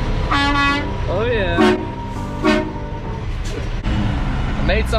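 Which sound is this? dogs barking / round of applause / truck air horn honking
truck air horn honking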